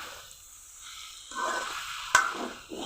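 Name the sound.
boiled noodles added to frying vegetables, sizzling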